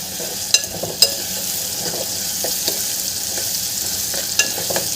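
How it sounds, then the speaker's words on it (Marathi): Tomatoes cooking down in a pan for a bitter gourd curry, a loud steady sizzle with a few sharp utensil taps and scrapes spread through, close by and with no talking. "टोमॅटो पण आपल्याला छान शिजवून घ्यायचे आहे"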